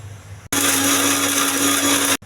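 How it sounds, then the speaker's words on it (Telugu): Mixer grinder whirring loud and steady for about two seconds while blending cucumber chutney with fried lentils, starting and stopping abruptly. "దోసకాయ కూడా వేసేయాలి, మిక్సీ వేయాలండి."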